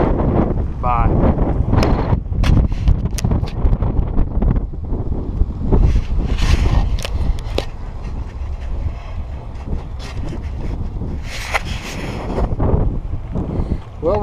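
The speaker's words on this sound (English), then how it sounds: "Just too much wind" Strong wind buffets a microphone beside a lake during a boat outing, producing a continuous loud roar with gusty low rumble and scattered knocks and clatter throughout.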